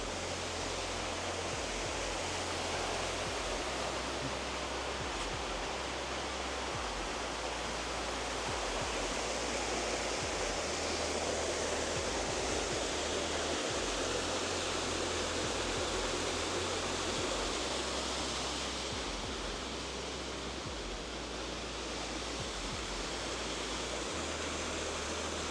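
Steady rushing and babbling of a stream flowing over rocks on a hiking trail, a continuous close wash of water with no pauses.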